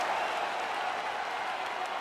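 A crowd in a UFC 5 video game arena cheers and applauds steadily after a full 25-minute fight, a dense, continuous roar of clapping and voices with no single voice standing out.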